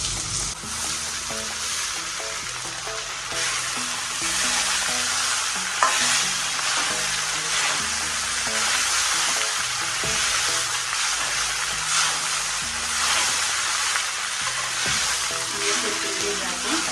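Soaked sabudana stirred and frying in a pan, a loud continuous sizzle with scraping strokes of the spoon throughout.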